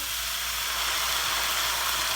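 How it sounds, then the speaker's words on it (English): Soy sauce, mirin and sesame oil poured onto bok choy in a hot pan give a continuous, loud sizzling hiss with bursts of steam, steady throughout with no talking. "then we're going to pour over our sauce, which is our soy sauce, our mirin, and our sesame oil."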